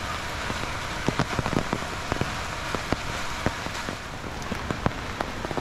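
Rain falls at a beach resort in Nagaon near a children's play area. It makes a steady close hiss, with many sharp drops tapping on nearby surfaces.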